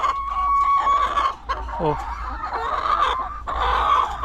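Hens clucking in a poultry pen, a steady run of close cackles and calls with a brief dip partway, the birds taking turns as they settle toward laying.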